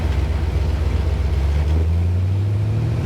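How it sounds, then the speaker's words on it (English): Chevrolet Nova engine with exhaust dumping straight out, a deep continuous rumble heard close up from inside the car, steady and loud with no talking. "Nothing like that rumble. You can feel that exhaust under my seat."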